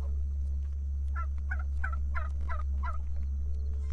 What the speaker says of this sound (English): Hey, turkey.